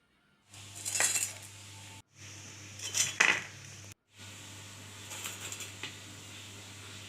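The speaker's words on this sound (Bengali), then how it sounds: "এর শব্দটা কীরকম হয়েছে একটু শুনিয়ে দিচ্ছি আপনাদের দেখেন কতটা মুচমুচে" A crunchy fried snack made from flattened rice and semolina is handled in three distinct bursts, giving close crisp clattering and brittle clinks. A faint steady hum runs underneath and there is no speech.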